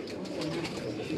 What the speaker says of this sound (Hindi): ये उसी आखिरी कबूतर का बाप है जो आपको मैं दिखा रहा हूँ